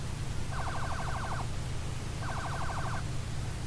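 Siren or horn in a modded farming video game, two short rapid warbling blasts about a second apiece, separated by a pause, over a constant low hum.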